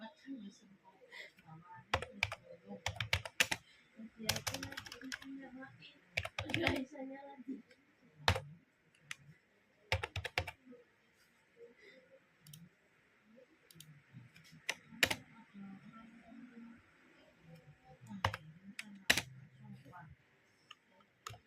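Grade values are entered on a computer keyboard into a simple C++ program, with irregular clusters of close key clicks and taps spread over about twenty seconds while a person talks at intervals.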